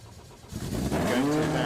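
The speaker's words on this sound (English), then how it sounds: "Sounds as if the engine has started again." A car engine cranks and catches about halfway through. It settles into a steady, loud running rumble close by.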